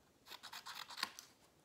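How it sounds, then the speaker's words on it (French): Scissors snipping through thin paper plates for a thank-you card collage, a quiet, close series of short rasping cuts lasting about a second, with no talk. "Ici, on va découper."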